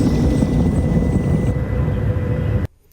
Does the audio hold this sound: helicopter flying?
yes